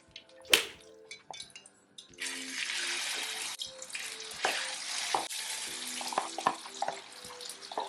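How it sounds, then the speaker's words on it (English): Plantain cubes sizzle and crackle in hot oil in a steady hiss, punctuated by pops and clinks of utensils, close and moderately loud. "once the oil gets hot, I will fry them and set aside too"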